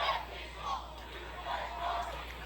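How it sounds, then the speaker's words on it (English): A large crowd of protesters at a street protest shouting and yelling together, rising and falling in waves, distant and fairly faint. "We got us a whole big old crowd of people."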